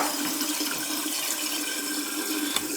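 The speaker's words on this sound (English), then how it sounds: "Looks like it's dripping from the supply there too." Water leaking from a kitchen faucet supply line, a steady close hiss of running, splashing water that continues without pause and with no talking.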